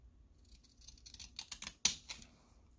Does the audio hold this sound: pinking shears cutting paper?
yes